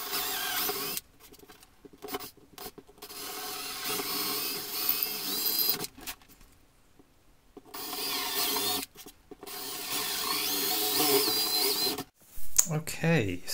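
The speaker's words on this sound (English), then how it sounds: "So I'm just going to drill them," Power drill boring holes for wiring while building a model railway layout, several bursts of steady whirring and grinding separated by short pauses, fairly close, with brief speech between the runs.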